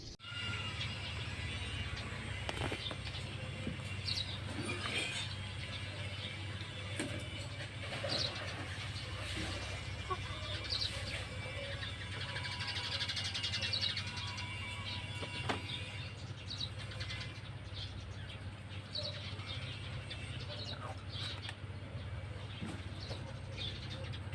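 A wild bird caught in a blackberry patch gives soft, repeated cooing calls near the microphone over a steady low hum and scattered handling clicks.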